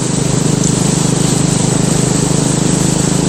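Steady, loud, close engine drone from a BSA Gold Star motorcycle cruising in top gear at about 50 mph and just over 3,000 RPM, with a rapid even pulsing throb and no break.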